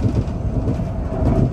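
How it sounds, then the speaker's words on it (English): A Siemens Venture trainset rolls smoothly along the rails, giving a steady, close, low rumble with faint rhythmic clatter and no voices. "This train is incredibly smooth compared to the LRC rail cars we were on earlier."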